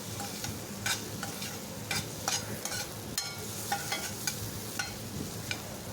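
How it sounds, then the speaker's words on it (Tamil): Tomato, onion and garlic sautéing over a medium flame in a pan for a lady's finger tamarind curry, with a steady close sizzle, soft stirring scrapes and several sharp utensil clinks, no talk. "தக்காளி வெங்காயம் பூண்டு எல்லாம் நல்லா வதங்கி வந்துடணும்."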